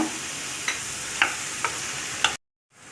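Capsicum and green chillies sauté in a pan with salt for a chilli curry, a continuous soft sizzle broken by a few sharp spoon scrapes and taps, ending in a brief silence before the frying fades back in.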